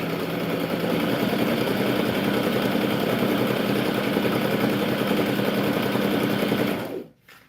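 A sewing machine runs steadily as it stitches tulle and organza ribbon trim onto a tutu, giving a close, continuous motor whir with a rapid needle rhythm for about seven seconds before it stops abruptly.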